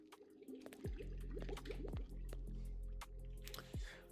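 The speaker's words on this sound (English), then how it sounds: "add underwater bubbles" Underwater bubbles gurgle and pop in a game level set in an underwater base, with soft drips and liquid squishes repeating at irregular intervals, quiet and close.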